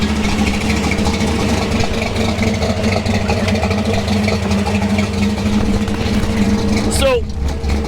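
A Chevrolet Monte Carlo engine idles steadily at about 950 RPM, a continuous low rumble with a constant tone throughout, ending in a brief rising whine near the close.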